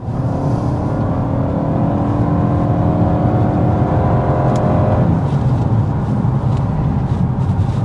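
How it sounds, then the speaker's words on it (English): A 2025 Toyota Camry XSE hybrid with an eCVT accelerates, its engine note rising in a steady, sustained drone, loud and close, with overlapping rising tones before leveling off near the end. "as you can probably hear from the accelerations, we do have an eCVT that's typical for Toyota hybrid systems"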